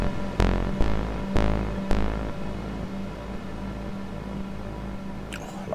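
A Moog Mavis synthesizer turned right down plays a few sharp plucked notes in quick succession, then settles into a low sustained throbbing hum with a faint tail at the end, heard alone.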